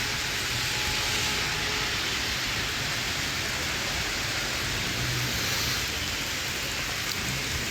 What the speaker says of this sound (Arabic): كيف كتلاحظوا الشتا خيط من السما